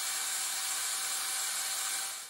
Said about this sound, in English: so we'll drill into it.